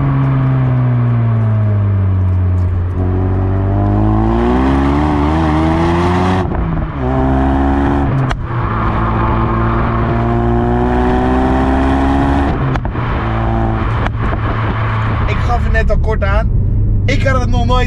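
A 400 hp Ford Focus RS hot hatch, its engine and exhaust revving loudly close by, rising and falling pitch sweeps with throaty harmonics and sharp pops near the end, partly under talk.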